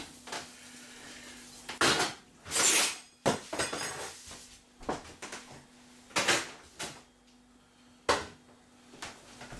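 A series of scraping and clinking bursts of metal against a plate as residue is scraped off, irregular and close, with short pauses in between.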